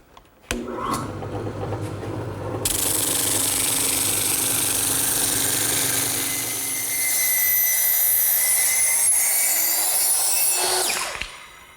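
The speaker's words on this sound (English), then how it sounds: "I'm simply going to use my drum sander, which is set up in the drill press" A drum sander mounted in a drill press whines steadily for about eleven seconds, a bright abrasive hiss layered over a motor hum, grinding against wood furniture parts.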